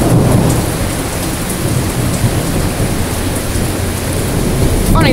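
Heavy downpour in Morris with rolling thunder, a dense continuous roar of rain hitting surfaces and low rumbles underneath, loud and unbroken.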